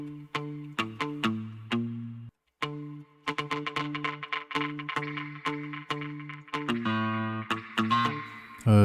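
A chopped funk-style 'cocotte' guitar sample run through the Decapitator distortion plugin in Ableton for a dub track: crisp, gritty muted plucks in a steady syncopated rhythm, loud and close, with a brief gap, no voices.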